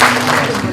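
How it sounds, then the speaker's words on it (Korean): An audience claps together at a discussion forum, a short, loud, dense burst of applause. "전체 박수"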